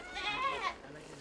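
A black goat gives one wavering bleat up close on a rural herding ranch, a short quavering cry with faint background noise and no talk over it.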